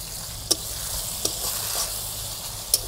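Tomatoes frying in a pan with cumin, green chillies, coriander, cumin powder, garam masala and salt, a steady close sizzle with a few sharp pops or spatula taps, no talk.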